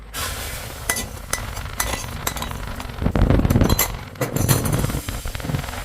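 Beaten egg for an omelette poured into a hot pan gives a louder burst of sizzling midway, set among light clinks and scrapes of a utensil against the pan, with no voices.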